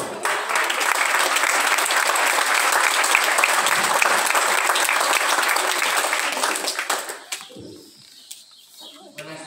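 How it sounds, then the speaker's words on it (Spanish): Audience applause at a primary school graduation ceremony in Tuxpan, Guerrero: dense, steady clapping for about seven seconds, then fading to scattered claps and quiet room noise. "Fuerte aplauso"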